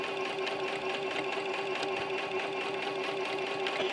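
A sewing machine stitches curved quilt pieces, running in a steady, continuous rapid whir close by for the whole stretch, with no talking.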